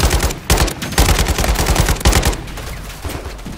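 Rapid automatic gunfire from the Modern Warfare 3 campaign, loud and close, with dense bursts of shots and echoing cracks that ease off toward the end.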